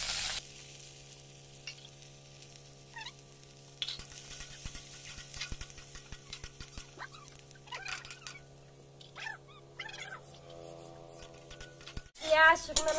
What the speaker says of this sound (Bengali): তেল গরম হয়ে গেছে, পেঁয়াজ কুচি দিয়ে দিচ্ছি।